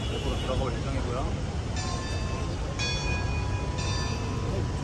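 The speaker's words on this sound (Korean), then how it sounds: "종소리 들렸어요." A bell rings three times in even, ringing strikes outside a cathedral in Saigon, heard over a loud, steady wash of city traffic noise.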